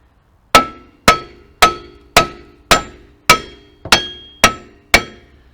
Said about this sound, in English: So we're going to hit it here on the hub without hitting the lugs.